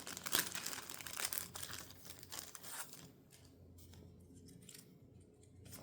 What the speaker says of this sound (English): if I can remember how to open plastic bags